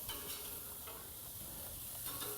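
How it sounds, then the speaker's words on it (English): Steady crackling sizzle of burgers searing on a hot grill, a continuous hiss with faint pops, fairly quiet and with no voices. "Hear that sizzle? You want to hear that sizzle."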